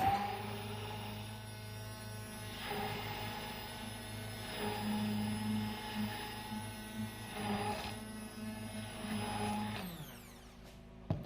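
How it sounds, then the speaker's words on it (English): A blender runs steadily through almond body scrub emulsion, a continuous motor hum with a strong low drone and faint periodic swells, before winding down near the end. "So we'll spend some few minutes of rigorous blending so that the emulsion will be complete."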